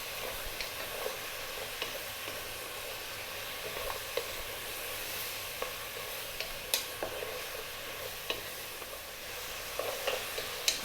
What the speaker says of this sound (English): And then we're going to go in with that garlic. We're going to stay on a high heat.